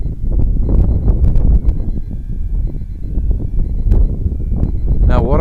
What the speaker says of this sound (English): Whoa, that was a gust.